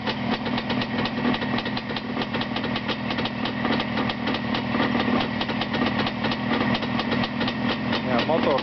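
An upgraded, strengthened old motor runs steadily near the microphone, a busy rapid putter with constant knocking vibration, while people talk over it.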